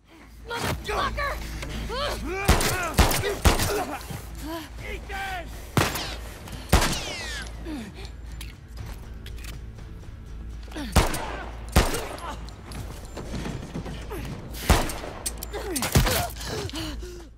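Scattered gunshots crack in quick bursts over a busy soundscape in The Last of Us Part II, with gasps and grunts between the shots.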